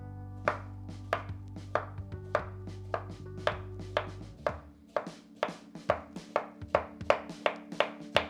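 A knife slices through a cucumber on a flat surface, a steady series of crisp, close chops that quicken toward the end.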